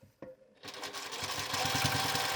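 After a brief quiet handling click, a sewing machine starts and runs with a rapid, rhythmic stitching whir, close and steady, sewing down a fabric mask's pleated edges.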